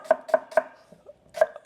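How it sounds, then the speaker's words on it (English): Leeks for a tomato sauce are chopped with a knife on a board: three quick, evenly spaced strikes, a pause, then one more crisp chop, close and alone. "I hope that chopping isn't too much"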